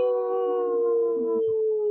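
A long, steady wolf-like howl held on one sustained pitch with a slight fall, loud and close on a radio show, sounding like a person howling in imitation of a wolf.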